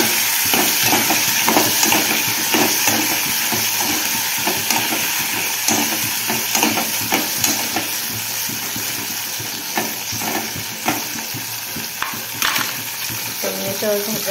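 Brinjal curry sizzles and fries steadily in a hot pan while being stirred, a continuous close crackling hiss with scraping strokes throughout.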